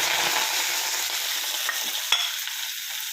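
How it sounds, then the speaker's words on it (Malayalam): Sambar cheera spinach sautéing in a pan after mustard seeds have popped, giving a steady close sizzle with a light stir and a small scrape near the two-second mark, with no voices. "ആദ്യം സാമ്പാർ ചീര ഇതുപോലെ വഴറ്റിയെടുക്കുക"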